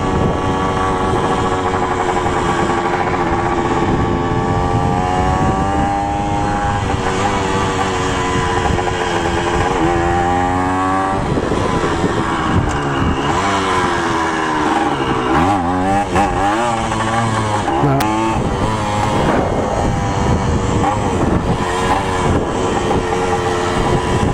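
A Kawasaki KE100 two-stroke motorcycle being ridden at speed, its engine loud and close throughout with a continuous buzzing drone whose pitch rises and falls as it revs through the gears.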